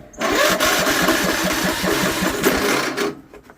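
A John Deere 102 riding mower engine cranks and catches on a cold start, a close burst of rapid chugging cranking that runs roughly for about three seconds before cutting off.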